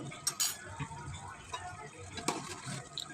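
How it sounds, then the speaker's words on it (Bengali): A spoon scrapes and clinks against a pan while broiler chicken curry is stirred with soy sauce over medium heat, soft irregular metallic taps with a faint sizzle underneath, fairly quiet. "সয়া সস দিয়ে আমি একটু ভালোভাবে নেড়ে চেড়ে মিশিয়ে দিব"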